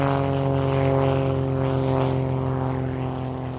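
Propeller engines of an airplane flying to Hawaii's Big Island drone steadily and loudly from close by, with a constant hum that fades slightly toward the end.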